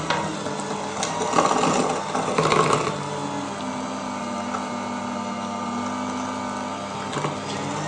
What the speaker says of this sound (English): Now I'm going to use my electric mixer.